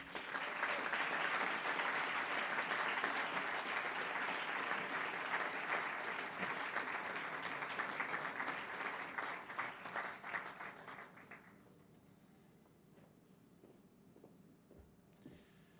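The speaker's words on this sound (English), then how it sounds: "Ladies and gentlemen, a warm applause for Emily Ana Insua." A graduation ceremony audience gives a graduating student warm applause that is loud and sustained for about eleven seconds, then fades quickly into a quiet room.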